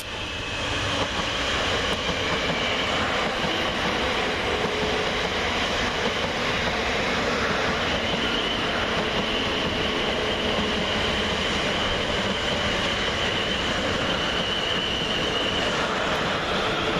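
Three coupled South Western Railway Class 450 electric units, 450-039, 450-124 and 450-043, run through Surbiton station on a Basingstoke to London Waterloo service. A continuous loud rumble of wheels and motors is topped by a thin squeal of wheels on the rails.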